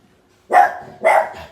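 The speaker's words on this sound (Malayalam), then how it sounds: "ഇങ്ങനെ വന്നിട്ട് എന്തോ നോക്കി കുരയ്ക്കുന്നുണ്ട്" A dog lets out two loud, close barks about half a second apart against an otherwise quiet indoor background.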